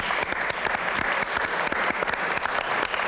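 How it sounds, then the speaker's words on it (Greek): Audience applause in a television drama as a guest performer is introduced: a crowd claps steadily with crisp, dense hand claps, sustained at an even level for a few seconds. "Ένα χειροκρότημα για τον ξεχωριστό φίλο μου"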